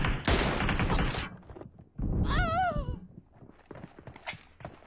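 Pistol gunfire cracks out in a video game. A dense burst of loud, close shots is followed by a second cluster with a whistling, ricochet-like tone, then scattered fainter thuds and steps.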